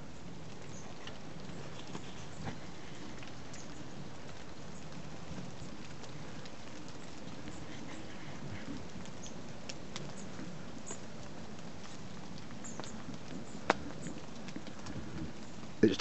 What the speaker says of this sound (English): It's decided to piss it down